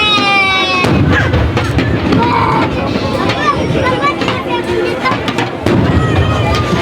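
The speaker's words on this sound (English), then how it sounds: "we're just enjoying amazing fireworks right here in Bastille Day, right here in Bordeaux, France" Bastille Day fireworks launched from a boat in Bordeaux, France, crackle and thud in a dense, continuous barrage with sharp bangs at the start and near the end, under a crowd's hubbub and chatter.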